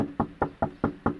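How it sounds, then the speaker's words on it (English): Five evenly spaced knocks on a door, firm and close, in a steady rhythm with nothing else heard. "You can bang at the door,"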